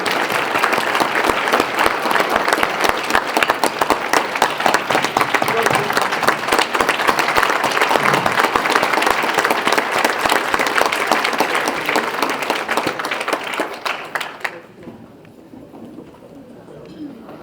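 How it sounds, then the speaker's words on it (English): A banquet audience applauds hall of fame inductees at a university athletics event, dense clapping loud and sustained for about fourteen seconds before stopping abruptly, with a few voices under it. "Let's give all these inductees one round of applause."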